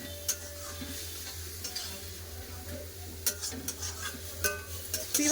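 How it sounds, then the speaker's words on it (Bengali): Papaya with turmeric being fried and stirred in a pan for chutney, a soft sizzle under repeated metallic spatula clinks and scrapes, several sharp knocks toward the end. "ভালো করে পেঁপে কষে নিয়েছি"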